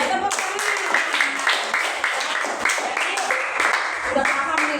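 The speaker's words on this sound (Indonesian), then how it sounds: "Betul ya, tepuk tangan." Schoolchildren in a classroom clapping together in a steady, regular rhythm, fairly close and loud, with voices mixed in.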